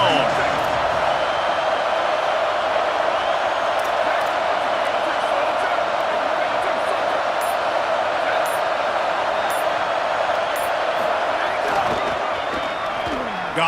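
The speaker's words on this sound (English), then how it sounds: "This crowd ready to make its presence known." Stadium crowd at a West Virginia versus Michigan college football game roars in a steady, dense wash of noise, with scattered claps and thumps and a commentator talking over it.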